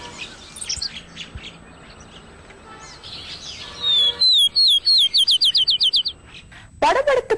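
Small birds, sparrows, chirp in bursts of quick, high, sliding calls, a rapid run of repeated notes in the middle, with fainter background sound around them.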